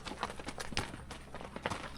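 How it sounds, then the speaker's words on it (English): Mule hooves clip-clop in a steady walking rhythm along a backcountry wilderness trail in Wyoming, close and moderately loud, with several animals plodding together. "I would be riding into the backcountry on my mule Clyde with my husband and some good friends"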